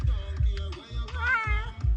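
A nervous cat meows several times in a chilly off-grid tiny cabin, close and clear, with drawn-out wavering cries and low rumbling handling noise between them.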